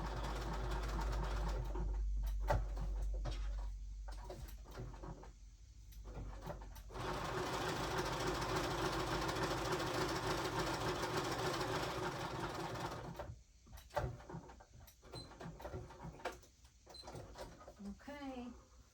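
A sewing machine stitches in long, steady whirring runs, loud and close, broken by brief pauses and restarts, with a person talking at times over and between the runs.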